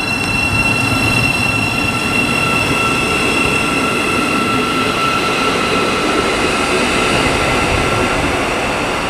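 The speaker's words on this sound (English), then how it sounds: "about to go out over there is the 1128 LNER service to York. Also departing is the 1128 Great Northern service to Moorgate." LNER and Great Northern trains pull out of Stevenage station on the East Coast Main Line, a loud, steady roar of rolling stock with rumbling wheels and a faint high whine throughout, and no voices.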